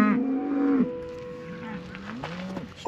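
Cows in a fenced pasture in eastern Washington moo: one loud, close, drawn-out low call, then a fainter, longer moo and a few softer, wavering calls from the herd.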